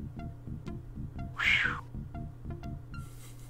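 A single cat meow rises briefly over steady, rhythmic electronic game music in the video game Day of the Tentacle.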